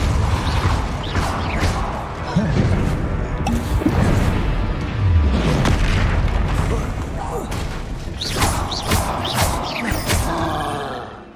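Incendio and Depulso spells in Hogwarts Legacy burst out as booming fire blasts and forceful impacts with crashing debris. A player shouts and reacts excitedly over the magic effects.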